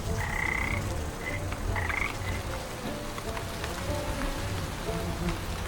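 Frogs croak repeatedly in the Wytchwood video game, many short calls overlapping in an irregular chorus over a steady patter of rain.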